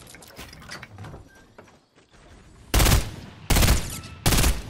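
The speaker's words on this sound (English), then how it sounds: "there's someone shooting at you" Rapid automatic gunfire in the Fortnite video game, several loud bursts arriving close together over a busy background of game sounds.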